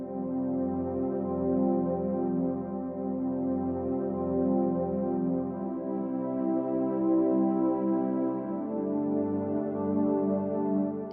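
Synth air pad from the Peculiar Sounds library, set up for a slow Afro highlife beat. A warm, sustained chord drones smoothly with soft swells, shifting once to a new chord near the end, heard alone.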